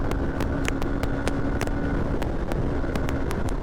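A Hero Xpulse supermoto motorcycle ridden on the road, a steady engine drone with heavy wind buffeting the microphone and a few sharp clicks or pops scattered throughout.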